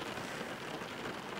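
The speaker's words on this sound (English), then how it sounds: "The rain's let up a little bit, so." Rain falling during a thunderstorm, heard while car camping; a steady, dense hiss of drops drumming on surfaces, even and unbroken throughout, with no voices.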